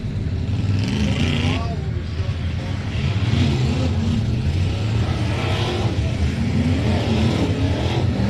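IMCA Modified race car engines idle and rev at a dirt speedway ahead of a 20-lap main event, a loud continuous rumble with rising and falling throttle blips under a mix of nearby sounds.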